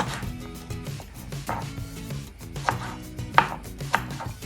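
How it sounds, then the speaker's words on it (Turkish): A knife chopping peppers for menemen on a board in quick, uneven strokes, crisp close taps with a few sharper cuts toward the end. "Şimdi biberleri doğramayla başlıyorum."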